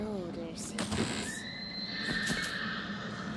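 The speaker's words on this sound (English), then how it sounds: "I can imagine that getting annoying hearing that neigh every time I open the box." A horse whinnies from a box in the Tiny Tina's Wonderlands video game, a short wavering neigh at the start, followed by several clunks and a rising mechanical whir that holds steady.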